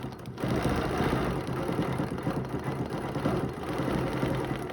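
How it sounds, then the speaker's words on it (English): A sewing machine stitches a quilt row along a ruler with a ruler foot, making a steady close mechanical whir with fast needle ticking that runs continuously without talk. "And then I'll just stitch to my line there"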